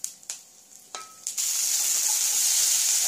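Mustard seeds crackling and popping in hot oil in a pan, a few sharp pops followed by a loud continuous sizzle.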